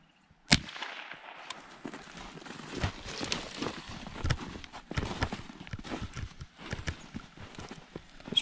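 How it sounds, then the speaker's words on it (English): A single sharp report from a Rossi .22 LR rifle fired at a tablet opens the clip, followed by busy crackling and clattering impacts and rustling at moderate loudness throughout. "this is the second shot with the 22. Let's see if we can blow it apart this time."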